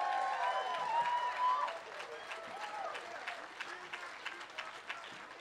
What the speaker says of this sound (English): Round of applause for the First Amendment.